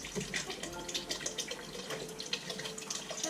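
Bone broth poured into a pot of tomato-based taco soup, a steady liquid splashing and trickling heard close up for a few seconds with no talk.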